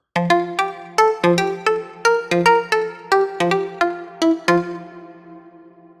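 A synth plays a series of plucked, bell-like notes in a steady rhythm, each ringing out into a wide, lingering reverb tail from the Reverbical plugin that fades after the last note.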